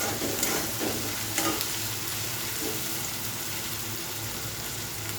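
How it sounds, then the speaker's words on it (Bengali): Onions and ginger paste being stirred and sautéed in a pan for chicken curry, a steady close sizzle with occasional scraping stir strokes over a constant frying hiss. "আদা বাটা দিয়ে একটু কষিয়ে নিচ্ছি।"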